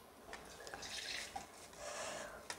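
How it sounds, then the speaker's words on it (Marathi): Water drips and trickles from soaked barnyard millet as it is strained, faint and close, with small irregular splashes and drops over a few seconds. "आता याच्यामधलं मी पाणी गाळून घेते।"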